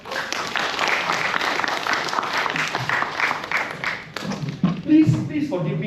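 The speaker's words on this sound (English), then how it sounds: "A round of applause for Janet." Workshop audience breaks into sustained applause, dense clapping filling the room for several seconds before it thins out and scattered voices come through near the end.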